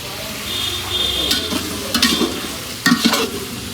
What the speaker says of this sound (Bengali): এখন নাড়তেছে, আমার হেল্প করে দিচ্ছে